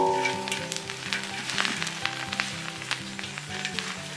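Tea leaves stir-roasted in a pan with a wooden stick, a soft hiss with repeated rustling, scraping strokes in an uneven rhythm over a low background hum.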